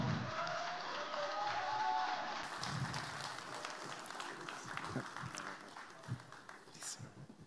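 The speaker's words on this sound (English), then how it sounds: "Applause for Gianluigi Buffon." Audience applause welcoming Italian football legend Gianluigi Buffon at a meet-and-greet event, a broad steady wash of clapping from a crowd, sustained and fairly even throughout with some scattered louder claps.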